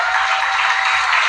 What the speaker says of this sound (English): let's applaud the graduating cohort